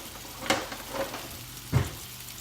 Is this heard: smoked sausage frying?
yes